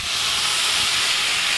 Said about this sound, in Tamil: தண்ணி இவ்வளோ எடுத்துட்டு நம்ம தெளிச்சு விடணும்